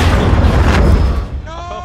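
A sticky grenade detonating in the video game Halo 5 campaign, a loud close booming blast with a rumbling tail that fades within about a second, followed by a brief bit of voice.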